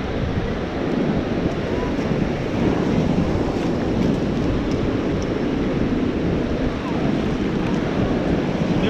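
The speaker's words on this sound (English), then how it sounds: "You got to let the waves wash them out" Ocean waves washing in on a beach, a loud unbroken surf roar mixed with wind buffeting the microphone, steady for the whole stretch.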